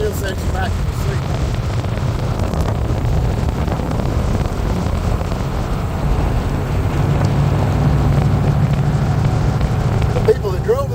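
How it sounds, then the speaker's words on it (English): Engine of a 1958 Chuck Beck Lister Corvette roars steadily under hard acceleration in fourth gear, a loud continuous rumble mixed with heavy wind buffeting and a voice talking over it. "That's fourth gear, it still sets you back in the seat."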